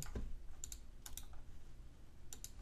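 Computer keyboard keys clicking in a few quick clusters, quiet and close, while text is pasted and saved in the vi editor on an Ubuntu Linux command line.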